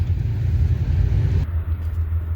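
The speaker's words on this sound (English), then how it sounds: "So I had my car running, so my car is a little bit hot" A warmed-up BMW car engine idles nearby with a steady, loud, low rumble and a continuous hum, and no voices are heard over it.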